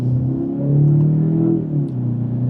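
A 2027 BMW 530i xDrive sedan's engine revs up steadily as it accelerates from second gear in manual mode, a loud, smooth rising drone with a brief dip near the end, heard close with no talking.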